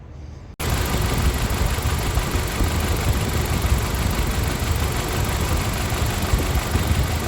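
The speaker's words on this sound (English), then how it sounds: "I can hear compression popping out of this thing." A 2015 Jeep Patriot 2.4L engine idles steadily and loudly at close range with a mechanical misfire. The faint compression popping is not clearly distinct within the constant rumble, which starts abruptly after a brief quiet moment.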